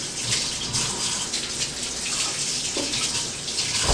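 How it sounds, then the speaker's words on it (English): Running water pours steadily over a ceramic grater plate being washed, a continuous close hissing splash with no talk over it. "I'm gonna wash this off."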